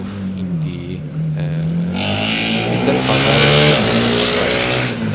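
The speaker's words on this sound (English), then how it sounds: "That engine is really loud." A combustion race car on an autocross course roars at close range, the engine climbing loudly through revs for about five seconds with a steady, building drone.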